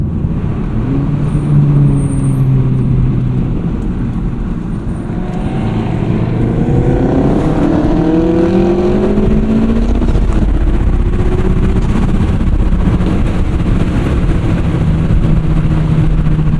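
Chevrolet Camaro SS 1LE V8 engine from the driver's seat, a steady loud drone with rising and falling revs through the gears and deep burbling, no voices over it.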